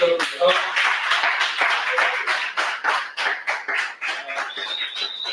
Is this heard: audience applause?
yes